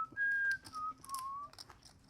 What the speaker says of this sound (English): Whistling, not one of my favorite sounds